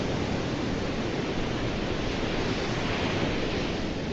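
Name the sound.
ocean waves from a browser video source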